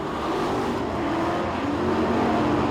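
Street stock race cars lap a track at a world championship heat, engines droning in a steady, moderately distant roar without clear individual passes.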